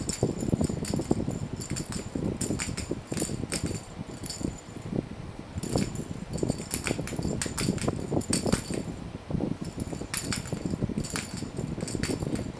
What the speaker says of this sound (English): My son's playing with a ball.